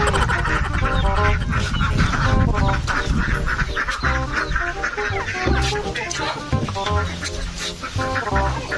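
Ducks call at once, a busy overlapping chorus of quacks and clucks close by outdoors, loud and continuous with some squawks.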